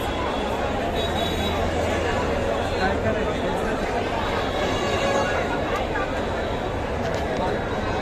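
Crowd of devotees queueing at the Tejukaya Raja Ganpati pandal in Mumbai, a steady babble of many voices close around, with one person speaking briefly over the hubbub.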